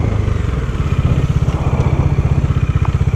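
A Bajaj Dominar 400 motorcycle with about 5,500 km on it runs steadily close by, its single engine thumping in a fast, even pulse with no voices over it.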